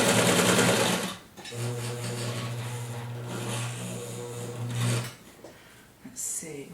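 A sewing machine stitches a hoodie seam, a close, steady humming run of stitches lasting several seconds, bracketed by louder handling noise before and after.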